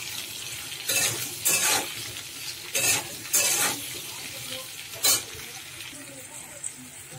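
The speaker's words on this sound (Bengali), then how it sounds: "পেঁপে আলুটা সাঁতলে নিয়েছি," Papaya and potato pieces with salt and turmeric sautéing in a pan, a soft sizzle under repeated bursts of scraping and stirring with a utensil, heard up close.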